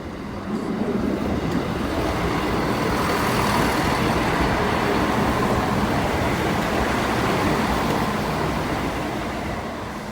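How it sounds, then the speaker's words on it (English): East Midlands Railway Class 170 three-car diesel unit passing a level crossing, a loud steady rumble and roar that holds throughout, close by, with no talking. "the 1107 East Midlands Railway service from Newark Northgate"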